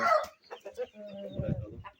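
Chickens kept alongside other animals cluck in short bursts close by, a few sharp calls early and then a drawn-out throaty cluck, all fairly faint against a quiet background.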